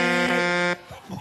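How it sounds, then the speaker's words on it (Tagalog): A loud, steady buzzy horn blares with a rich harmonic tone for about three quarters of a second, then cuts off abruptly into quieter background noise. "Pinakawalang kwenta na yung busina."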